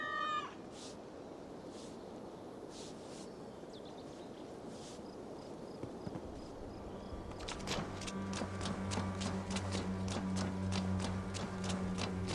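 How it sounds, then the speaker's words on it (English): A cat meows inside the Viking-era world of Assassin's Creed Valhalla, a few short calls early on over steady game ambience, before layered musical tones swell in the latter half. "Cats are sacred beings."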